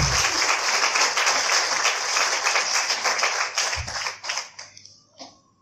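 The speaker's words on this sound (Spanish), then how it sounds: "Y con eso un aplauso a Manuel para que salga" An auditorium audience applauds to welcome a speaker named Manuel onto the stage, dense loud clapping that holds steady and then thins out and fades to a few last claps.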